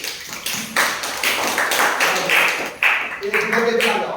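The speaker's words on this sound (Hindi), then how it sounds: "ताली बजाइए।" Schoolchildren in a maths classroom clap their hands in a short, loose burst of uneven claps, moderately loud and close, with chatter and voices mixed in.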